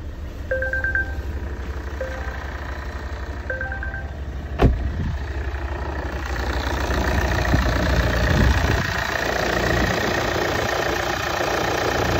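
A Volvo V90's 2-litre 140 kW diesel engine idles steadily and close, a low continuous rumble that grows slightly louder midway, with a phone ringtone chirping a few times early on and a sharp click partway through.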